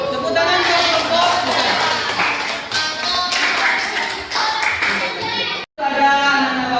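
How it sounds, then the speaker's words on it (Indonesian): An audience of adults and students claps for a student group after a classroom presentation, scattered hand claps and taps continuing for several seconds with brief breaks and children's voices mixed in. "Tepuk tangan untuk kelompok."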